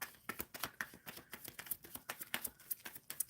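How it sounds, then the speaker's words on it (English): Tarot cards shuffled during a live collective energy reading, a rapid run of crisp, close papery riffles and flicks with steady rhythmic bursts, no voice over them. "Shuffling for Starry Night."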